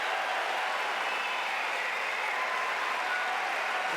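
Tennis crowd at the 2004 US Open applauding Nadal, a steady dense wash of clapping at moderate distance with no talk.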